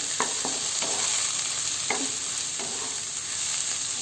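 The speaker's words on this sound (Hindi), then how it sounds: "देखो मशरूम भी फ्राई हो गए छै" Steady sizzling of mushrooms frying in a pan, with occasional stirring scrapes and clicks on top, close and continuous.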